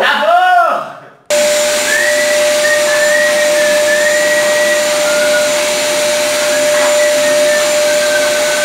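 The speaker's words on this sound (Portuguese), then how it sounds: "vai aspirar a casa." A household vacuum cleaner roars loud and steady up close as a house is cleaned, a continuous whine starting abruptly after a brief voice and holding unchanged to the end.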